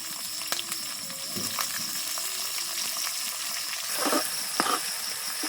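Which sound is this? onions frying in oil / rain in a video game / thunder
onions frying in oil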